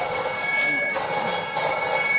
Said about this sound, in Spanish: Cuando ha sonado el teléfono, que me ha asustado a mí.